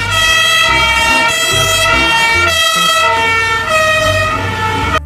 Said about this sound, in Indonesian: truk tangga pemadam kebakaran